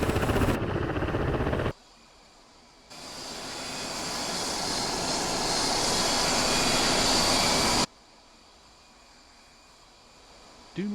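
A Mirage F1 jet engine whining and roaring as the aircraft taxis in a flight-simulation game set in Syria. The engine is loud and steady, with an abrupt cut and a quieter rumble before it surges back for a long stretch, then drops again.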